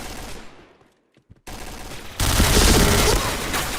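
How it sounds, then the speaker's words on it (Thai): Gunfire in the video game Point Blank during a PBTC 2016 tournament match on the Downtown map: a short gap, then a loud sustained burst of rapid shots building toward the end. "เต็นยิงรอบหน่อยดิ"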